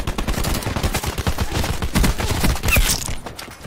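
Rapid bursts of automatic gunfire crackle loudly and closely in the battle royale shooter Call of Duty Blackout on the Alcatraz map, a dense stream of overlapping shots with scattered mechanical clicks.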